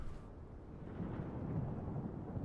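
Low rumbling thunder in a flight simulator game, a steady broad roll that swells slightly and holds at moderate level, with no talk over it.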